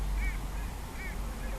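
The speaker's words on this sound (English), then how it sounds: "Got our go-away bird calling there." A go-away bird gives several nasal, honking calls at a Kenyan waterhole, spaced at intervals and sounding fairly distant over a steady, rumbling outdoor background.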